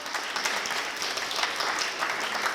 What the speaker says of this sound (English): Clap for Scott.